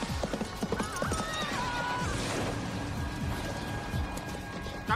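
Horse hooves clip-clop in a quick, busy rhythm throughout, with a neigh sounding partway through amid an outdoor bustle.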